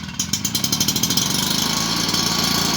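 The small two-stroke engine of a backpack fan-assisted crop sprayer starts with a few sputtering pulls, then catches and runs as a loud, rapid, steady close-up drone.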